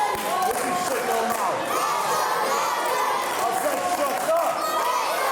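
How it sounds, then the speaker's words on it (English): Crowd at a live wrestling show cheering and chanting steadily, loud and continuous, with a commentator talking over the noise throughout. "And listen to the crowd really getting behind Legend there."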